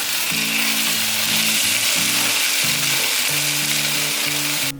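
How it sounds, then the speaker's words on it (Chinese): Eggplant stir-fries in a pan with no water added, sizzling loudly and steadily up close, with soft stirring scrapes and a background music melody throughout. "没有加水炒茄子，茄子都变软了。"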